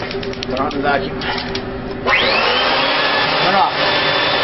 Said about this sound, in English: put on the vacuum.